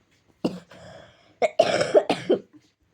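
A woman coughs several times in close succession, harsh and near, with a throat-clearing sound between bursts, alone in a quiet room.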